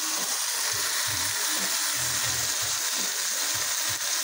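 Steak with a homemade steak sauce sizzles on a grill, a steady loud hiss running throughout with faint low knocks and rumbles underneath.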